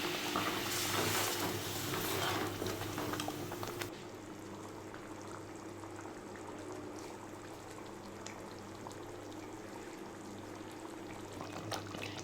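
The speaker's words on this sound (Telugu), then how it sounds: "నేనైతే వన్ కప్ వాటర్ వేస్తున్నాను ఇందాక మిక్సీ పట్టిన గిన్నెలో నుంచి తీసుకున్న వాటర్ అదే వేస్తున్నాను" A cup of water from a mixer jar splashes loudly into a pan of cashew paneer butter masala curry for a few seconds, then settles into a steady, softer bubbling simmer.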